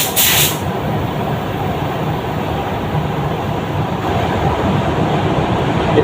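An F75 Makute spray gun sprays in a continuous loud hiss, opening with a short sharp burst and then settling into a steady airy rush, with no talk.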